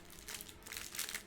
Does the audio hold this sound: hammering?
no